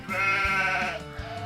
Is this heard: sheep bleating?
yes